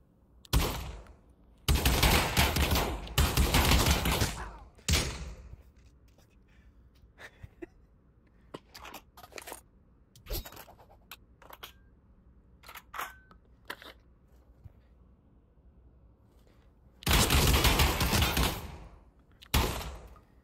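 Bursts of automatic gunfire in the VR shooter Pavlov, with long loud rattling volleys at the start and near the end and scattered single shots and clicks between.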